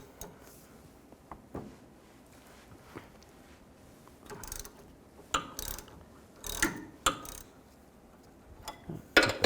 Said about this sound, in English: I'm gonna take this sway bar link off on the sway bar side